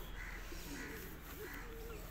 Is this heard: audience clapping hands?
no